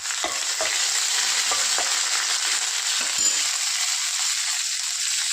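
Mustard seeds, two dried red chillies and curry leaves sizzle loudly in hot oil. The sizzle is a steady, close hiss with a few sharp pops and light clinks.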